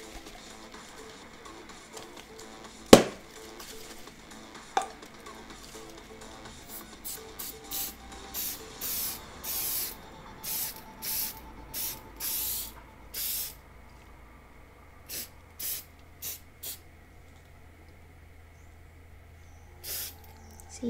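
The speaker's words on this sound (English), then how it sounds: "you can see we have sprayed it" Aerosol spray can spraying onto a pastel and pencil swan painting, a series of short quiet hissing bursts in an irregular rhythm, preceded by a single sharp knock.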